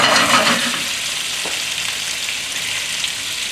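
Pork chops in marinade sauce sizzle loudly and steadily in a frying pan, a dense close hiss that holds for the whole stretch with no talk.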